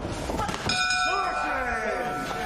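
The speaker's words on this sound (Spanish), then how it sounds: "Y se viene la campana." A boxing ring bell clangs to end the fourth round of a professional bout, ringing out with a sustained metallic tone over steady arena crowd noise.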